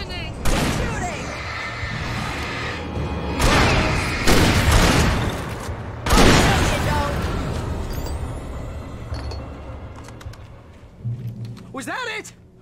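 Gunfire in the Alan Wake Remastered video game comes as several loud, close bursts of shots and heavy booms spaced a second or two apart, fading into rumbling aftermath, with voices speaking through the fight.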